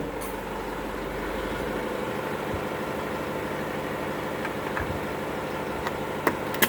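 A truck-style engine idles steadily at close range to run an ARB 12-volt air compressor, a constant low rumble with faint clicks and a couple of sharp knocks near the end.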